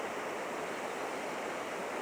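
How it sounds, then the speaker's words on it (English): A small creek spills over rocks that look placed by hand, making a steady broadband rush of falling water, close and continuous, with no voices over it. "it made a waterfall. Sounds so peaceful"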